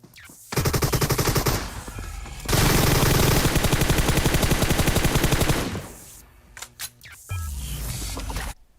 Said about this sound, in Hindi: कतई कोई ग्रोजा चला रहा है, और ये M249 लेके आया था एक बंदा